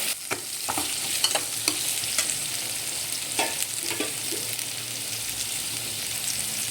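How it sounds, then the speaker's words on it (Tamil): Onions and vegetables sauté in a pan for veg pasta, a constant close sizzle broken by repeated spatula scrapes and taps, with no voices. "வெங்காயம் நல்லா வதங்கிடுச்சு"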